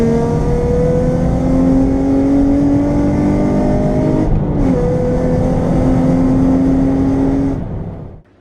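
A Nissan 350Z with an uprev remap pulls hard through third and fourth gear, a loud, steady rising engine drone with a brief dip at the gear change, then the sound cuts off near the end.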